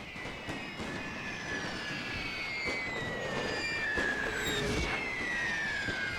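Scattered gunfire in The Great War video game, with irregular shots and distant cracks over a whining, droning background of battlefield noise, moderately loud and without talk.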